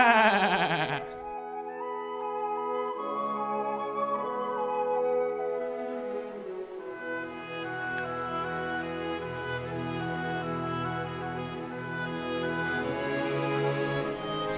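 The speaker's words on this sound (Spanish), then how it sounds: "balidos, que es el sonido que hacen las ovejas" Sheep bleat in long, wavering calls, one voice after another overlapping, fairly close and continuous with no talking.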